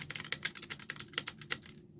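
Keys clack in quick, irregular strokes on a Keychorn K3 Version 2 mechanical keyboard, close and fairly quiet, about a dozen presses before stopping.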